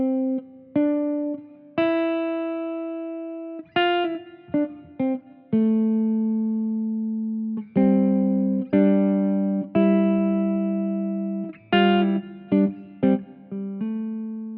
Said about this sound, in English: the semi-hollow body guitar by Ample Sound